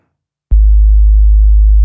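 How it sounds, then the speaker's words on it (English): Pure 52 hertz tone that switches on abruptly after a short silence and holds as a loud, steady low hum to the end. "52 hertz sounds like this."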